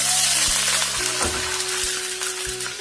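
Water poured into a pan of sizzling golden brown fried onions for chicken pepper steak, a loud steady frying hiss with a brief splashy surge, close and alone without talk.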